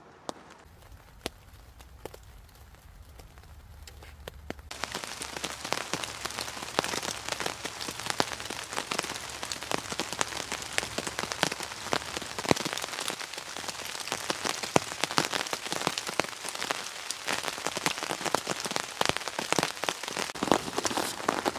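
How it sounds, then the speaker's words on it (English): Rain falling on a camping hammock tarp during a rainstorm, a dense, continuous patter of drops that picks up sharply after a few seconds and stays close and steady. "It's not really raining that hard, but that's okay with me."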